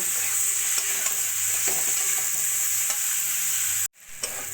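Lentils stirred and sautéed with spices in a pan, a steady close sizzle with scraping stir strokes throughout, cutting out briefly near the end before resuming.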